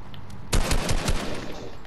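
A short burst of rapid automatic gunfire in the Fortnite video game, a handful of sharp, loud shots fired in quick succession, then a fading tail.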